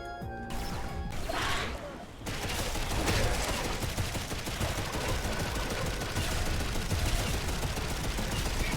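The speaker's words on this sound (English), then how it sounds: "I can shoot radioactive chain gun bullets." Radioactive-coated chain gun in a video game firing a dense, continuous stream of rapid shots, loud and close, running unbroken for several seconds after a brief musical lead-in.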